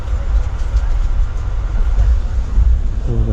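A passenger train pulls into Kankavli railway station in Konkan with a loud, continuous low rumble of wheels and carriages, close by and unbroken throughout.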